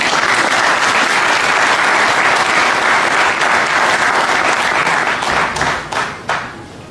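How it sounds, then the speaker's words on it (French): A crowd at a memorial gathering applauds Alphonse Ntumbalwaba with loud, sustained clapping that holds steady and then thins out and fades near the end. "Nous devons l'applaudir."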